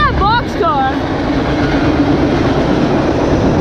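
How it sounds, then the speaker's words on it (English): Boxcars on a CSX manifest freight train roll past close by, a loud, steady rumble and rattle of rail cars, with a brief high squeal or voice at the start. "Look at this weird colored boxcar, Troy."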